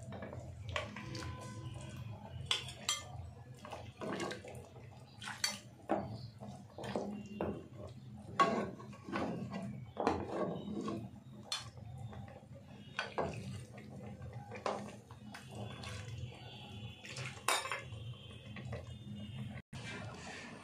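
Mutton paya is served out of a cooking pot, with utensils clinking and scraping against the metal and soft liquid slops and drips, steady and close throughout.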